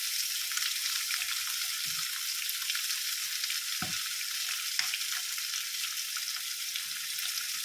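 Onion, garlic, tomato and chopped green chili sauté in a pan with a constant bright sizzle, while a few soft clunks of a stirring spoon knock against the pan; no voice.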